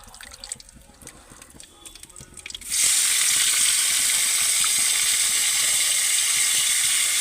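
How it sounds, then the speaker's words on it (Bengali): Chopped ash gourd dropped into hot oil, setting off a loud, steady sizzle that starts abruptly partway through and continues unbroken to the end, after a stretch of quieter kitchen clatter. "তো দেখতে পাচ্ছ কিরকম চিড়বির করছে"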